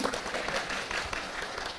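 Church audience applauding during a sermon, a soft, distant scatter of many hands clapping, steady and low in level throughout.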